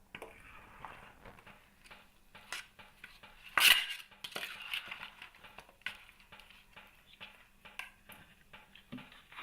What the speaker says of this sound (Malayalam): ഇത് നന്നായിട്ട് ഇളക്കുക